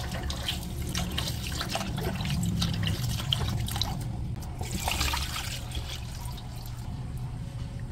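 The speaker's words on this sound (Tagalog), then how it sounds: "Ikatlong hugas na po ito mga chula" Glutinous rice gets its third rinse in water for homemade bibingka, a steady trickling and pouring wash that runs close and moderately loud without any talking.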